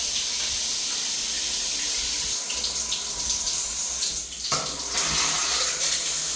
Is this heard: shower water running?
yes